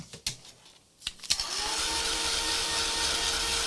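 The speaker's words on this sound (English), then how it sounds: "I'm going to dry this one just a wee bit with my heat gun." A heat gun drying collage paper made from kneaded magazine pages, preceded by a few short clicks and knocks, then switching on to a steady, fairly faint blowing whir that holds to the end.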